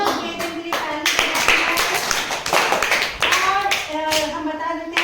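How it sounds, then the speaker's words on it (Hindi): A teacher claps in a classroom during a blindfolded guessing game, several sharp claps at close range with someone speaking over and between them. "ओके, तो मेरी ताली"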